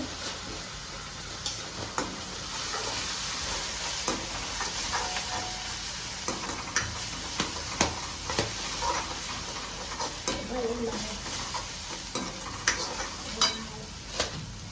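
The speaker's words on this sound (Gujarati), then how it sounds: "હવે એમાં થોડું નાખી દઈશું હળદર" Kathiyawadi-style curry sizzles in a pan as turmeric goes in, with a soft continuous frying hiss and intermittent sharp clicks of a spoon stirring.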